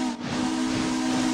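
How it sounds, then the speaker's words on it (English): A railroad locomotive whistle sounds one loud, steady, sustained blast close by, with no voices over it, while a freight crew ties down equipment for the season. "I love that whistle."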